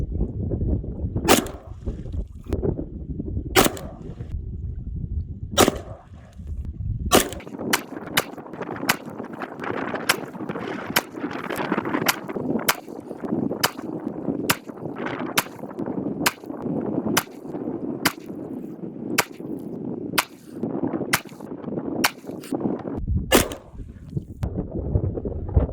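Pistol fired outdoors with hand-reloaded ammunition: sharp, loud shots crack out one after another, a few spaced at first, then a quick irregular string of many rounds over steady background rumble.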